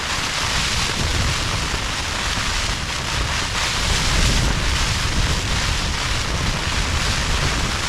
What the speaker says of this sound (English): the wind's coming from the northeast